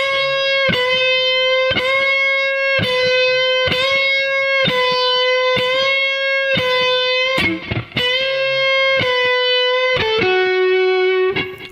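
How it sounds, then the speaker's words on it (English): A distorted electric guitar plays a repeated blues lick, bending a whole step and then a half step. The notes are loud and sustained with steady rhythmic restrikes and no talking. "bend a whole step and followed by a half step"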